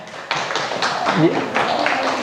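Classroom applause for a student during a lesson on production costs, a short burst of several pairs of hands clapping quickly close by, with a little talk mixed in.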